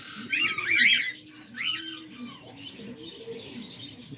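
Pet cockatiels, budgies, lovebirds and diamond doves call indoors, with sharp squawks and chirps up front and soft cooing and chatter beneath, moderately close.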